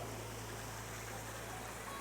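Waterfall in a Japanese tea garden, a constant broadband rush of falling water, steady and fairly loud with a low hum underneath.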